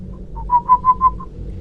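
A soft, bird-like whistle repeated in four quick, even chirping pulses with a faint lead-in and tail, close and clear against a quiet background.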